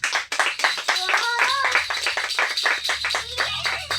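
Church congregation applauding the Lord, a dense run of hand claps with cheering and singing voices over them, loud and close throughout.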